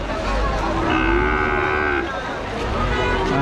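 Cattle at a livestock market in Rajshahi on a rainy day, with one drawn-out moo rising clearly over a steady background of rain and market noise.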